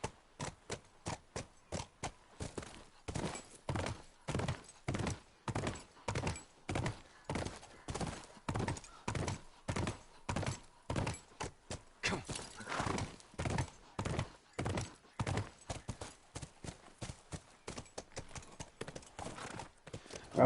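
Steady hoofbeats of a horse in a video game clip-clop in a regular trotting rhythm, crisp and fairly quiet, continuing without pause throughout with no voices.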